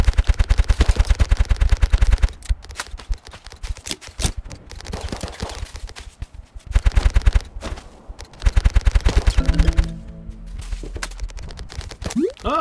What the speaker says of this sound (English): I'm missing every shot.